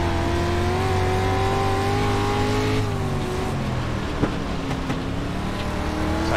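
Dirt race car engines in iRacing, a continuous loud droning roar from several cars, rising and falling in pitch as they rev through a dirt rookie series race, with no talk.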